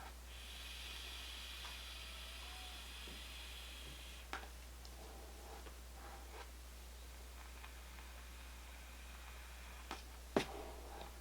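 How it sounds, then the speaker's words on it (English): A soft, airy hiss of someone drawing vapor from a Juul e-cigarette, faint and breathy at close range in a quiet room, followed by a brief exhale and a couple of small clicks. "Let me take a vape on the Juul and show you a comparison."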